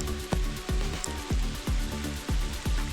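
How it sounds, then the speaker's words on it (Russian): A heavy summer downpour at a riverside fishing camp with a tent, rain pattering close in a steady, rhythmic run of drops striking a nearby surface, fairly faint and without talk. "Жара, солнце, а теперь проливной дождик."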